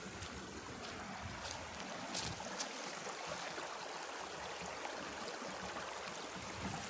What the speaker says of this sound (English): Here we come to this little river I was talking about,